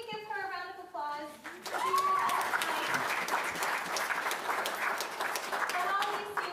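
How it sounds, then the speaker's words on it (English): Audience applause at a holiday college music department concert, a steady wash of clapping that swells in after a brief moment of speech and continues evenly throughout. "Can we give her a round of applause?"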